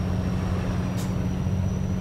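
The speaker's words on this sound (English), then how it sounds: "You hear that truck back there, man. He's making a lot of noise." A nearby truck in a trucking video game idles and rumbles as a low, steady engine drone, with a brief hiss midway through.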